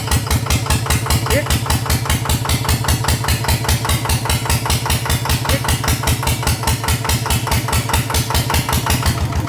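A small Yanmar 150 diesel engine upgraded to a 100 mm piston chugs steadily up close, its fast, even knocking rhythm continuing throughout without letup.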